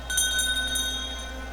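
A small bell hung on a necklace jingles in a video game, with bright tinkling tones ringing over a steady low hum that stays fairly level throughout.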